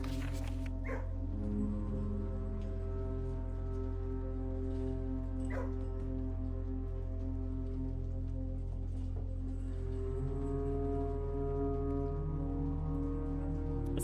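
Dogs in a kennel in the video game Blue Prince give repeated short barks and yips over a steady humming game soundscape, a few scattered calls rising above the constant background.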